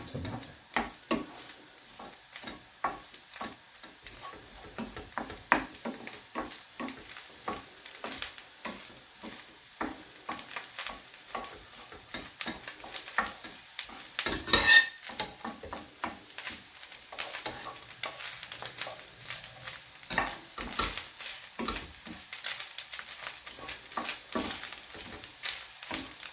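Lasagne filling frying in a pan over turned-up heat, with a continuous low sizzle and frequent scraping, tapping stirs of a utensil against the pan, close and moderately loud.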